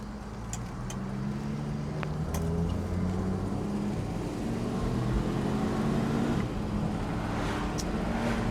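A 1967 Ford Mustang with a newly installed timing chain hums along on a test drive, a steady close engine drone and road noise, with slight shifts in pitch as it runs, no talking.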